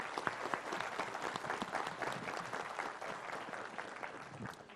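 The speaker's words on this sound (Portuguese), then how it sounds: "Cadê os aplausos para as mulheres?" Audience applause fills a hall during a talk at a São Paulo state union congress, dense steady clapping sustained throughout, close and loud with scattered sharper claps.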